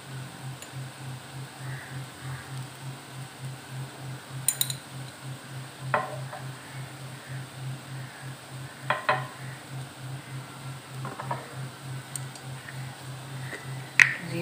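Cumin seeds fry with onions in about three tablespoons of hot oil, a quiet steady sizzle under a low fan hum, broken by a few sharp clinks of a spoon against the pan.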